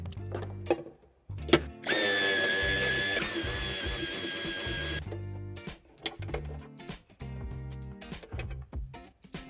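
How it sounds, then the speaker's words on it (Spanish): A long socket wrench works a nut on a 2020 Mercedes-Benz GLA (H247) during a tow hitch fitting, with rapid ratchet clicks, a sustained whirring mechanical burst and scattered metallic clacks, close and alone. "Para aflojar esta tuerca necesitaremos una llave de tubo bastante larga"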